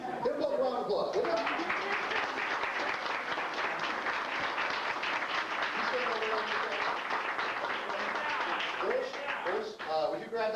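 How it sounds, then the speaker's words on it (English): A reunion audience claps in steady, dense applause for about ten seconds, with a voice heard at the start and end and a few chuckles mixed in. "Give them both a round of applause, will you?"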